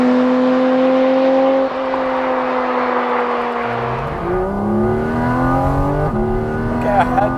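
Porsche Cayman GT4 RS, its 493-horsepower engine in PDK Sport mode, revs loudly up close, the pitch climbing and dropping through several sharp rises and falls before settling lower.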